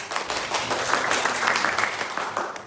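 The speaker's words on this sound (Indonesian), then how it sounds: "Yo, tepuk tangan Mas Wildan." A classroom full of people claps steadily for a student, dense and sustained applause throughout with no voices standing out.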